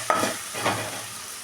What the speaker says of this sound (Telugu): ఇప్పుడు శనగపప్పు వేసేసుకుందాం. ఒక్కసారి మిక్స్ చేసుకుందాం.